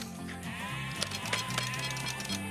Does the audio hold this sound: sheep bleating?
yes